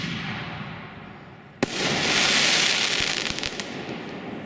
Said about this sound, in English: The Shogun consumer fireworks demo fired wirelessly with the Cobra remote firing system.